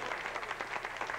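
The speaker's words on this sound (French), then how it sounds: "On l'applaudit encore." An audience at a 1981 Canadian dance evening applauds the dancers, a short, dense burst of clapping from a room full of people, steady and fairly close.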